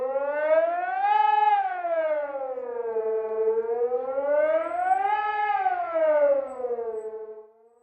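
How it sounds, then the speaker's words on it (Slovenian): Loud civil defense siren sounding an evacuation warning for a village beside the flooding Mura river, its wailing tone rising and falling in two long sweeps, heard alone and close. "Glasna sirena je naznanjala evakuacijo več kot 400 prebivalcev vasi ob reki Muri"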